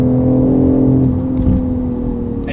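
A BMW i8 with a 1.5-litre three-cylinder engine, in sport mode making its full 362 brake horsepower, pulls hard on the road. It gives a loud, steady, humming drone with no voices over it.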